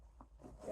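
A backpack pocket zipper pulls closed in a short, soft, close rasp, quiet and alone against a faint room hum.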